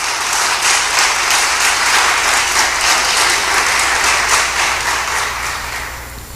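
A church congregation applauds steadily and loudly, dense clapping that holds for several seconds before tapering slightly.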